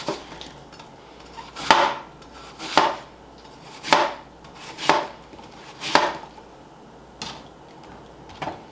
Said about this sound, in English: We now have our apples peeled. We're going to slice them up.